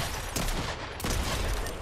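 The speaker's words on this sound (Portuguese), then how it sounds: "ele tá ouvindo tiro" Gunfire rings out in a video game, two loud bursts of shots about half a second apart, filling the short moment with harsh, noisy cracks.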